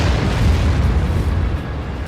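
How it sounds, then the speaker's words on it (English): Artillery shells exploding in World of Tanks, heard as a loud, dense rumbling boom that fills the short moment and fades slightly toward the end, with no voices. "artillery shells are landing all around"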